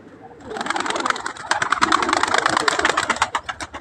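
A dense flurry of pigeon wingbeats and cooing, loud and close, with rapid flapping bursts filling the scene for several seconds.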